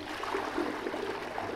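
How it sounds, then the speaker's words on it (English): Rushing water from a toilet flushing in a video game, a steady broadband wash that holds at even loudness for the whole stretch with no voices over it. "Let's see if I keep flushing the toilet."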